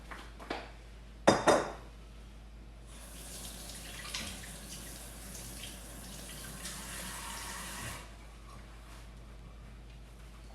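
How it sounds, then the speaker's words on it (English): A kitchen tap runs in a steady hiss for about five seconds while hands are washed, preceded by a couple of sharp clinks of pots or dishes, with faint handling sounds afterward. "I'm gonna wash my hands"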